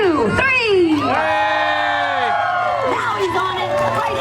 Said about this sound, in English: Folks, on the count of 3, let's cheer him on.